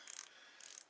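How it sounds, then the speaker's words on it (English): Repeated rapid clicking of the main turret on a One Leaf Commander 2-26x50 NV400 rifle scope being turned, two short bursts of close, crisp ratchet-like clicks with a pause between. "And you're just turning the main turret on this scope when you're adjusting this."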